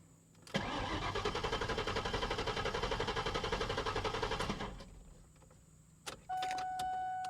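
A car engine is cranked with a steady, rapid rhythmic whirring of the starter for about four seconds that then winds down without catching, followed by a short mechanical click and a steady electronic hum.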